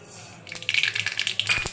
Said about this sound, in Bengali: এবার সর্ষেটা দিয়ে দেবো।